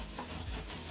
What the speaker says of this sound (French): Je frotte bien, je maroufle.